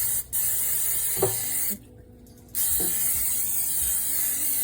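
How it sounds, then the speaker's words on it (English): A cooking spray can hisses steadily onto plantains for an air fryer, cuts out for a moment, then resumes, with a few soft clicks and taps in the background. "you need to spray the plantains with cooking spray"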